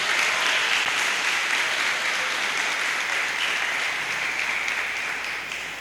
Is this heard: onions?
no